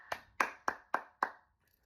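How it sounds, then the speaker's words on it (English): Five sharp hand claps at an even, unhurried pace, close and alone, each with a quick decay, before falling silent. "It's sad I'm clapping it up for him"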